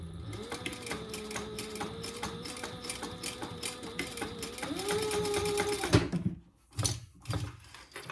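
A sewing machine runs steadily, stitching two rows on a fabric tag, a fast rattling mechanical hum with a whirring pitch, then it stops and a few softer handling clunks follow.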